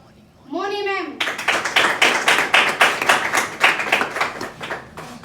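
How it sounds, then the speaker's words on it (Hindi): Audience applause welcomes someone speaker onto the stage at a health awareness programme. A short voice is heard first, then many people break into loud, steady, rhythmic clapping that continues to the end. "हम वही भारतीय सभ्यता के अनुसार जोरदार तालियां बजाकर उनका स्वागत करेंगे"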